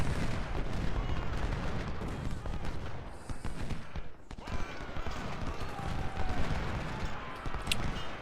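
Massed musket volleys and artillery fire from a Civil War battle in the strategy game Ultimate General: Civil War, a dense continuous crackle of gunfire with occasional deeper booms, steady and moderately loud throughout.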